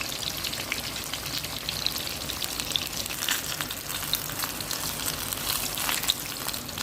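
Eggplant sticks frying in a pan, giving a steady crackling sizzle with scattered pops throughout, close and moderately loud without talking.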